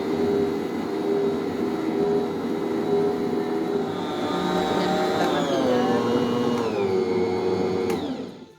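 An electric mixer whirs steadily as it beats pastry dough with butter and salt for chicken puff pastry, a loud droning motor tone that dips in pitch under load near the end, then cuts off.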